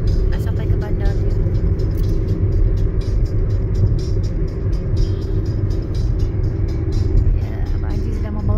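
A car driving on a mountain road near Al Baha, a steady loud low engine and road rumble filling the whole stretch, with people talking faintly over it.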